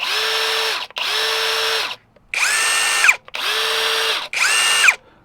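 A Hyper Tough 1/4 inch impact driver running in five short bursts of about a second each with brief pauses, a loud close whirring motor whine that rises and falls at each start and stop, no talking.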